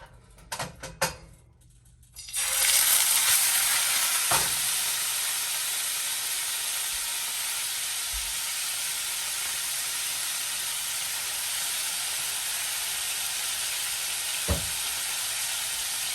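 A few clinks, then a loud sizzle bursts up as meat hits a hot pan and keeps hissing steadily, with a couple of soft knocks.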